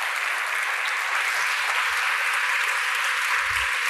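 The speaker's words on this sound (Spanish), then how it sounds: "Un fuerte aplauso para ella." A conference audience gives a dense, sustained round of applause to welcome a speaker, steady and moderately loud throughout, with a faint low thump near the end.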